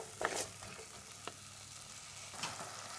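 Channa curry for a Kerala-style brown channa kurma sautés softly in a pan, a faint steady sizzle broken by a few spoon scrapes and stirs, with no talking.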